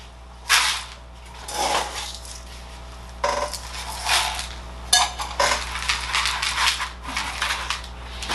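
Bonsai soil poured into a pot for a Siberian elm forest planting: a series of gritty, rattling scoops and trickling pours in irregular bursts, close and fairly loud, with quiet gaps between.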